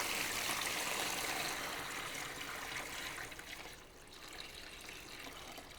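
Water pours steadily into a container as two gallons are measured out for a bacon curing brine, a loud continuous rushing that eases off slightly toward the end, with no voices.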